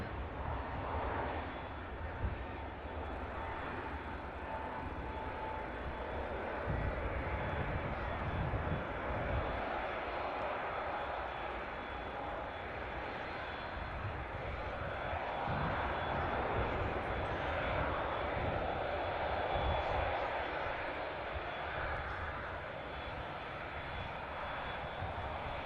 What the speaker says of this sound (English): beautiful KLM. Departing back to Amsterdam Schiphol.